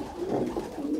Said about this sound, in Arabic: حمام قليل الخوت